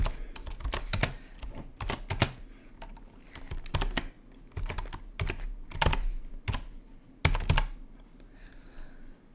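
Keystrokes tapped out on a computer keyboard as a command is entered on a host computer, arriving in irregular bursts of clicks with brief pauses between them, close and clear with no talking.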